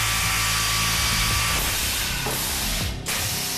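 A GANNOMAT Elite dowel boring and driving machine works a panel with a loud continuous mechanical whir and hiss, near and steady, easing briefly toward the end before resuming.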